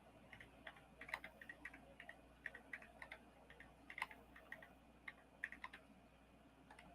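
Typing on a computer keyboard, quick irregular clusters of light plastic key clicks, close and quiet against faint room hum, with no speech.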